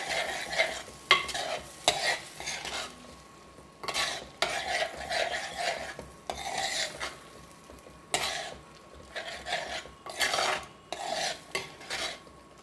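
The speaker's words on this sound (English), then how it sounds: "Let's add in the green peas alone. Okay, give it a mix." Green peas stirred into frying masala in a pan, brisk scraping strokes of a spoon in quick rhythmic bursts over a continuous close sizzle, with light metal clinks.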